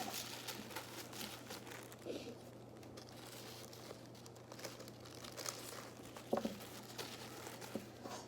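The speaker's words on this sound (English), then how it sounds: "And then you're gonna stack your paper together." Sheets of craft paper for a paper flower are stacked together, giving faint crinkles and soft rustles up close with one sharper tap near the end.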